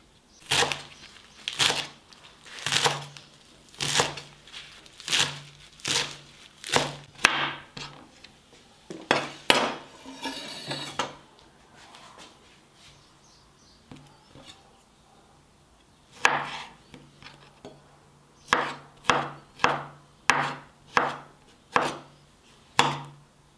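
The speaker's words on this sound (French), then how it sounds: "Je vais couper ma salade, mon concombre et mon melon." A knife chops lettuce, cucumber and melon on a cutting board in steady, crisp strokes, with a run of regular cuts, a short pause with some shuffling, then another quick series of sharp chops close to the listener.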